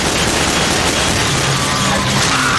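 Explosions and rapid gunfire from the video game Team Fortress 2 make a loud, continuous roar of blasts and shots that stays dense and saturated throughout.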